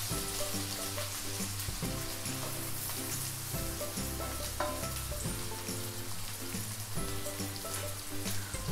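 Chopped onions fry in a pan with a dense, even sizzle like light rain, carried over a continuous low musical bed with no speech.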